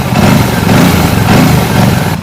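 A Royal Enfield Classic 650 motorcycle idles with a steady, loud, throaty engine rumble that holds even throughout, with no speech.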